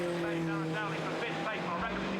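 A TVR race car in the 2004 Carlube TVR Challenge at Brands Hatch drives with a steady, loud engine drone that holds a constant pitch, with a voice audible alongside.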